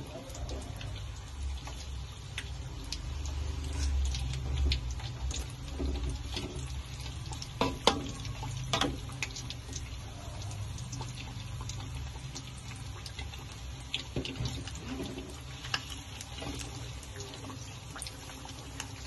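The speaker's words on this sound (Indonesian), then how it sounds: "Kita akan goreng dendeng ini kira-kira 2 menit aja, atau udah berubah warna kita angkat aja." Dendeng batokok, flattened Sumatran beef slices, frying in hot oil in a pan, giving a steady close sizzle and crackle with scattered louder pops throughout and no talking.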